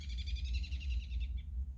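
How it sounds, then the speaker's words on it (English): Robins fighting over territory in April give a rapid, repeated run of high calls for just over a second, close by, over a steady low rumble. "it is April and the robins are fighting over territory"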